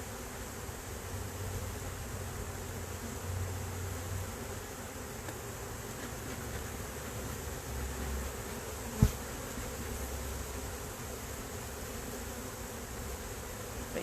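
Honey bees drone in a steady soft buzz around an opened hive, faint and continuous throughout, with one brief knock partway through and no voices.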